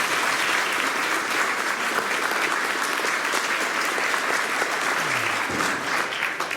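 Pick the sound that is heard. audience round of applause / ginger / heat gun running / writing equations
audience round of applause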